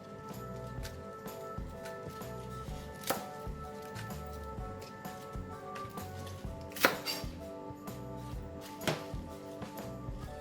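Knife chopping Chinese cabbage on a cutting board to split the leaves from the thicker stems, a steady run of close, crisp cuts with a few louder thuds, no voices.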